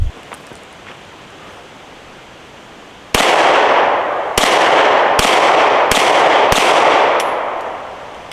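Five sharp Glock 43X pistol shots fired at a 10-meter target, loud and close, spaced unevenly over a few seconds, each followed by a burst of outdoor echo and wash.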